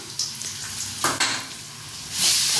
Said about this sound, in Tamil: நல்லா ஃப்ரை பண்ணணுமா? ஃப்ரை பண்ணணும்.